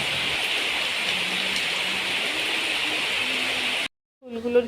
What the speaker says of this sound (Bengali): এবার কিন্তু বৃষ্টি নেমে গেছে